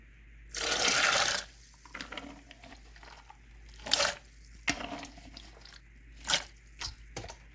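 Water and soaked koki beans poured into a blender, a close splashing pour at the start followed by scattered drips, plops and wet squishes, fairly quiet overall.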